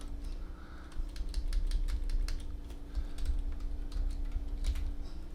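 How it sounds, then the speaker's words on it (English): Rapid, uneven clatter of keys on a computer keyboard while someone types code, close and steady with brief pauses, over a low constant hum and no speech. "Don't pay too much attention to my typing."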